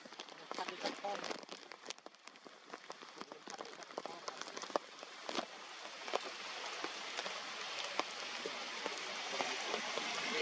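Heavy rain pours down in deep cold, making a dense, steady patter of drops nearby with scattered sharper hits that grows slightly louder toward the end.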